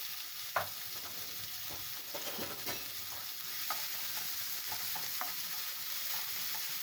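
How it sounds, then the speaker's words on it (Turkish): Onions hit olive oil in a pan and sauté with a soft, constant sizzle, while scattered light taps and scrapes of stirring sound close by and no one speaks. "Aynı tavamın içine birazcık daha zeytinyağı koyuyorum. Şöyle. Şöyle hemen soğanlarımı koyuyorum içine."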